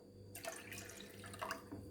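Water pours steadily into washed toor dal in a cooking pot, a splashing gush that starts after a brief pause and runs on, loud and close, with no talk.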